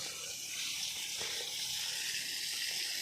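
Water runs from a hose pipe across the ground of a betel leaf garden, a steady soft rushing hiss heard from close by with no talking.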